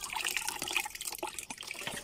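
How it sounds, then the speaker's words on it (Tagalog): Water runs from a tap where dishes are about to be washed, a faint, soft splashing trickle with a few brief drip-like spatters and no talking. "karon nagagas na ang atong tubig"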